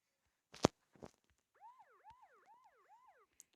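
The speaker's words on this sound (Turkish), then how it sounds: "Şu polis arabası da ötüp duruyor." A wailing police car siren from a Minecraft car mod, rising and falling in a steady repeating pattern after a couple of sharp clicks, fairly quiet and heard alone.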